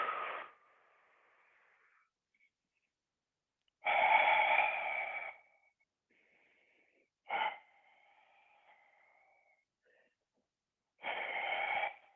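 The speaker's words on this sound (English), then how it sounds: "Count 10 deep, long breaths" Deep, long breaths during a Pilates exercise: slow drawn-out inhales and exhales alternate with quiet gaps, close to the microphone and fairly loud, with no speech.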